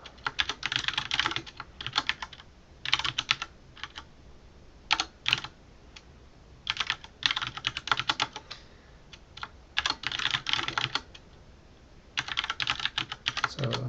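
Steady computer keyboard typing while entering code, rapid clattering bursts of keystrokes separated by brief pauses, close-miked and continuous with no speech.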